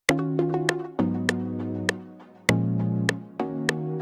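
Bright synthesized plucked notes and chords from the AZ Plucky Stars preset ring out in a rhythmic pattern, each attack sharp and quickly decaying, with sustained tones underneath.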